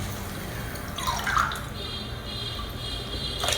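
Water is poured into a cooking pot holding rice and moong sprouts for khichdi, a steady liquid splash that swells briefly and then settles into a softer trickle.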